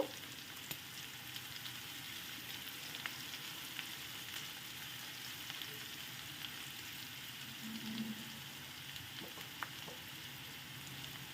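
Onions frying in a pan until browned, the start of a tomato rice, with a faint, even sizzle and occasional light stirring taps.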